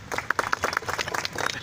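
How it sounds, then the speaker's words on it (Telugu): Brief burst of audience applause at a public talk, a crowd clapping in quick uneven rhythm for under two seconds. "దానికి చప్పట్లు అస్సలు అవసరం లేదు"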